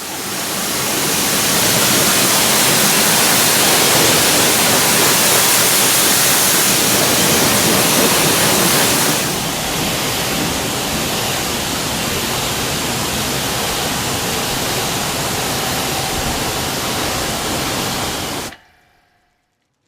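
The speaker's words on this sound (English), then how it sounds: "the engine was given a detailed rinse to remove all traces of the degreaser and hopefully dirt" A hose rinses degreaser off a 100K-mile Volvo V40's engine bay, a loud, continuous hissing spray that shifts tone halfway through and cuts off abruptly at the end, with no voices.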